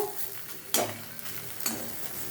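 Sabudana and egg batter fries gently in a pan, a soft continuous sizzle broken by two brief louder scrapes as the pieces are turned, no talking.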